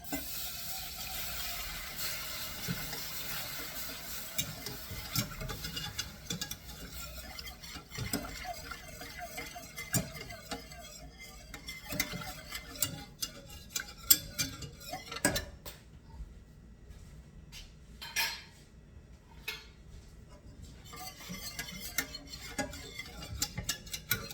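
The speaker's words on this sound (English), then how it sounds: "if you don't stir this, you'll notice the flour will stick into the corners and stuff and burn before you get them out" Flour toasting in a pan for Hunkar Begendi is stirred steadily, with a soft sizzle under irregular scrapes and clinks of a utensil against the pan, some brief pauses and a few sharper knocks near the middle.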